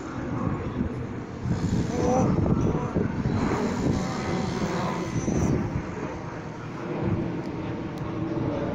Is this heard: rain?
no